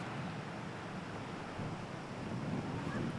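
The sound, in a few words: wind on a windy hill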